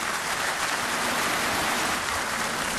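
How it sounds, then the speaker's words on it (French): Sustained applause from a crowd saluting the President of the Democratic Republic of Congo after his speech, a dense, even wash of clapping at constant loudness with no individual claps or voices standing out. "Voilà donc les salves d'applaudissements qui saluent les discours du président de la République"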